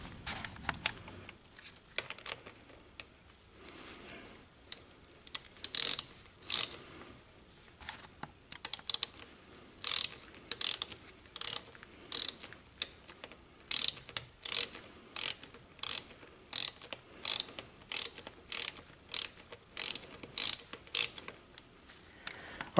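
A 9/16 wrench snugs a bolt on a Briggs & Stratton small engine with rapid bursts of sharp metallic clicking, repeated in short irregular strokes for over twenty seconds, close and fairly quiet.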